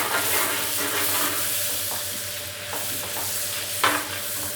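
Cumin seeds fry in melted salted butter in a pan, producing a loud, dense, continuous sizzle with a few brief stirring scrapes and no talking.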